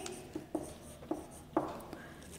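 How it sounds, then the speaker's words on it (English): Chalk or marker strokes on a classroom board during a Class VII English lesson, a few short separate taps and scrapes spaced about half a second apart, faint and close with no talking. "We are going to write number"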